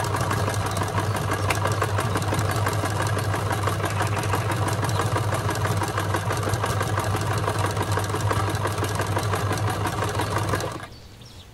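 A steady mechanical whir of a sewing machine stitching fabric nonstop for about ten seconds, with a fast even rhythm, then cutting off abruptly near the end.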